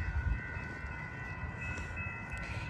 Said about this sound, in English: We're gonna have our outbound Metra.